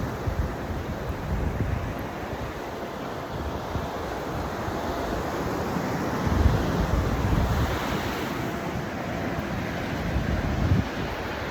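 Ocean surf washes continuously onto a beach, broad and rolling with a couple of louder wave crashes, mixed with gusty wind buffeting the microphone and no voices.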